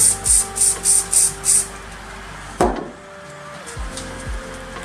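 Six quick hissing bursts from a spray bottle in even succession, followed by a thump and faint rustling.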